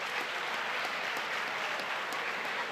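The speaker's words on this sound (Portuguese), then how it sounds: "Palmas." An audience at a business-week event in Brazil bursts into applause after a prize winner is called, a loud, continuous spread of many hands clapping with scattered sharper claps standing out.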